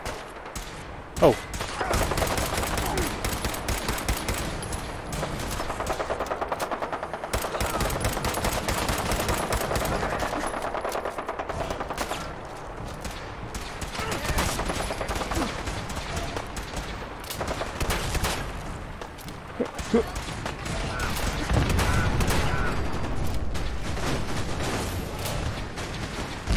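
Sustained automatic gunfire in the Fallout 4 VR video game, dense rattling bursts and sharp shots going on for a long stretch, loud and near, with a brief shouted exclamation.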